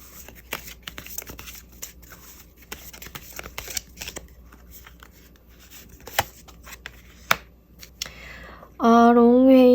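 Tarot cards are shuffled and drawn close by, a soft run of papery riffling, rustling and light flicks, before a sustained tonal sound cuts in at the end.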